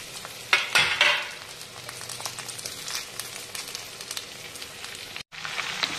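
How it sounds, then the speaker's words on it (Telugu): Ivy gourds drop into hot tempering in a tin pot and set off a loud burst of sizzling and clatter. Steady frying crackle follows, with scraping stirs and a brief break near the end. "దొండకాయలు వేసేస్తున్నా."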